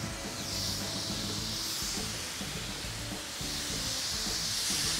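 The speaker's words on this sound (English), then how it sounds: "let's lay these burgers down" Burgers freshly laid on a Blackstone XL flat-top griddle, sizzling with a dense, continuous hiss and crackle that stays close and steady.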